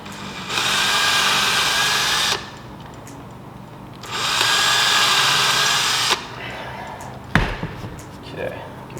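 Power drill whirring in two sustained bursts of about two seconds each while holes are bored into a wall to mount blinds, close and loud, followed by a sharp knock and faint handling noise.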